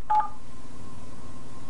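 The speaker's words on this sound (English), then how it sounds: "The phone connected to the internet dials just like a regular phone." Telephone dialing tones from an internet-connected phone run off a computer: a short burst of keypad beeps at the start, then a steady tone that holds quietly to the end.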